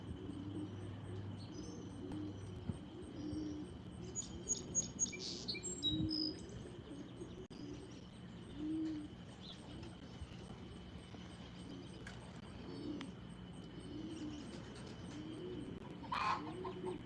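Racing pigeons coo and flutter around a loft, soft low cooing with scattered chirps and a few wing flaps over a steady background hum, no one talking.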